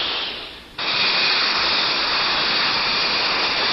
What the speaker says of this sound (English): There are jets that can rise straight up and then hover, like this British Hawker P-1127.